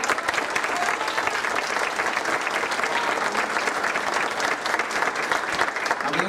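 A festival audience in the municipality of Bustamante claps steadily and loudly for the whole stretch, a dense wash of applause with a few faint voices mixed in.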